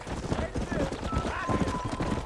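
A horse clip-clops along at a steady trot in the Western game Red Dead Redemption, its hoofbeats fairly close beneath voices talking over the ride.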